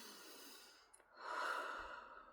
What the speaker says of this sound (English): It is so easy to breathe